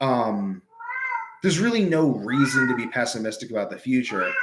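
A cat meows in the opening moments, a couple of short rising cries up close, before a voice takes over and talks continuously.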